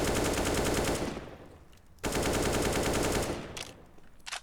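Rapid automatic gunfire in Counter-Strike on the Mirage map: two loud sustained bursts of spray separated by a brief pause, ending with a few scattered shots.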